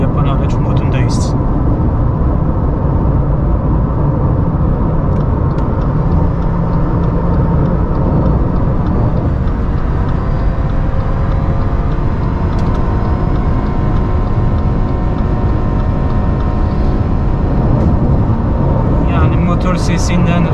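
Steady engine drone and road roar of a Subaru XV cruising at highway speed, continuous and fairly loud throughout with no pauses.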